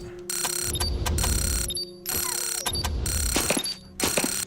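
Bright electronic chimes and ringing tones in Wasteland 2 as experience is divided up, playing in bursts with short pauses between them, over a busy layered background.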